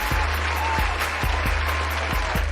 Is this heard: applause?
yes